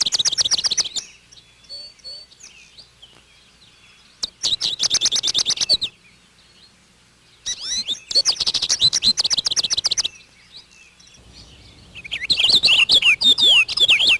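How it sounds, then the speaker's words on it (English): Purple finches sing in a backyard in bursts of rapid, bright warbling twitters, several separate phrases spaced by brief quiet gaps, fairly close and clear. "These lovely birds are the purple finches, more rotund and deeper raspberry in color."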